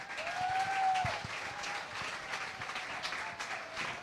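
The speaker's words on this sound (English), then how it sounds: "Please give them a big round of applause." An audience at an evening event with a swimmer and his coach claps in sustained, moderately quiet applause; a faint tonal hum or voice runs briefly underneath early on.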